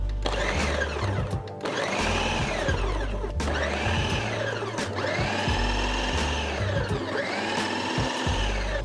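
A food processor purees a jerk chicken marinade in a series of loud, close pulses, each a whirring surge that rises and cuts off before the next, with no voices.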